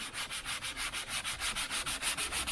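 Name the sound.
hand sanding car bodywork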